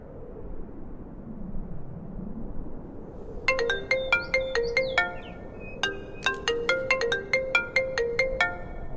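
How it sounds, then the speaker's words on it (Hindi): A mobile phone rings with a mother calling, a bright repeating electronic melody of quick pulsed tones that starts partway through over a low background hum and keeps looping close and loud. "तुम्हारी मम्मी का फोन है।"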